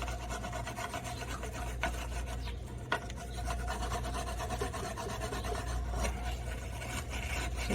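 A brush wet with carpet cleaner scrubs old gasket residue off an engine, giving a continuous close rasping, rubbing scrape with uneven strokes over a steady low hum.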